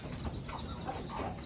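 Chickens on a rooftop setup cluck and squabble over feed, a steady, busy jumble of fowl calls mixed with other bird noises at moderate loudness, with no talking.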